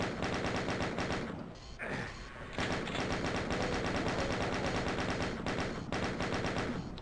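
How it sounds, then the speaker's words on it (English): Sustained rapid chain gun fire in the DOOM level Assembly Line, a loud continuous mechanical rattle of shots that dips briefly near two seconds before resuming at full intensity. "Take out your chain gun, I think."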